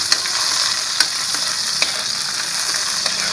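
Onions and tomatoes stirred as they fry in a pan for a home-style dish, a steady close sizzle broken by a few sharp spoon clicks against the pan, no voices.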